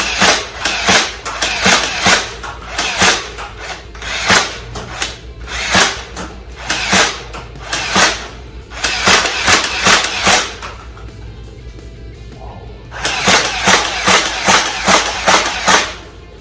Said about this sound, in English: Firing the Stampede is so much fun.